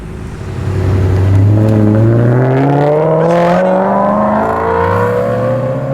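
A Mazda MX-5 accelerates along a city street leaving a car show, its engine note climbing steadily through the gears, loud and close with a rising, sustained drone.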